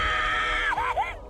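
A woman's loud, anguished scream rings out in a horror film, holding one long high cry before it wavers and breaks into two shorter falling wails.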